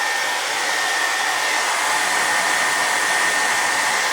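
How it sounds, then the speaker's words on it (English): A regular hair dryer with a single temperature setting runs continuously at close range, giving a loud, steady blowing whoosh with an even motor whine and no breaks. "this is your regular run-of-the-mill hair dryer"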